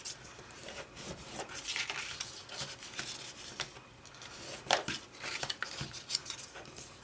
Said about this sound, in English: See, the spatula does a really good job on the scoring